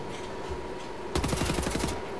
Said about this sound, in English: I'm getting shot at again